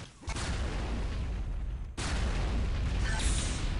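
A rocket blast in a 4v4 Quake team match lands as a sudden heavy boom partway through, set against a constant dense roar of game combat noise.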